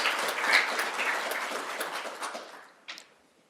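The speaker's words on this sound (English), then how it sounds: "So let's give them a round of applause." Audience applause for a panel at a conference session, a burst of clapping that fades out over a few seconds, with a last isolated clap near the end.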